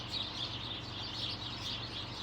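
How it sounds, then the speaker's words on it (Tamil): Many small birds, sparrows, twittering together in a tree in a Canadian winter, a steady dense bed of high chirps with a low hum underneath, continuous and moderately distant, no talk. "அது எவ்வளோ குருவிகள் அழகா கத்துவங்க."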